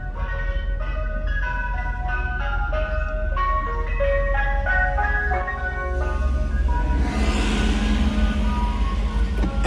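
Ice cream truck chiming its jingle melody on a sunny day in Philadelphia's Feltonville neighborhood, a steady, fairly loud tune heard from a passing car with an open window, engine and road noise underneath.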